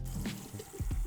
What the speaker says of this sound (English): Rinse it real quick with cold water so it stops cooking.